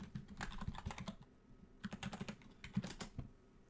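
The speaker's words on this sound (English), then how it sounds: "We'll enter our password if we have not already entered it." Password keys tapped on a computer keyboard in quick irregular bursts, close and fairly quiet, with short pauses between clusters of clicks and no voices.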